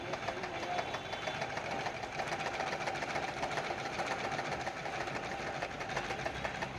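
A foot-pedal treadle sewing machine stitches cloth with a steady, fast mechanical whirring and clatter that runs evenly and close by throughout, with no talking.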